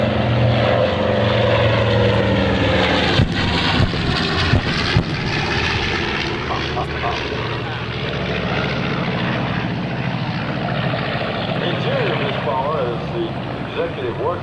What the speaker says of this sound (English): it was General Hap Arnold's personal B-25. It's still got some punch in the old go yet